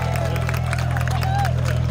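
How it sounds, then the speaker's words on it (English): An outdoor crowd at the early-morning 1906 San Francisco Earthquake and Fire anniversary ceremony gives a round of applause, steady clapping mixed with cheering and murmuring over a constant low hum. "Give yourselves a round of applause."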